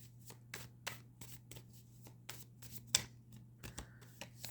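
Tarot cards being shuffled by hand, a series of soft riffling flicks and taps in an irregular rhythm, close and quiet over a low steady hum, with no talking.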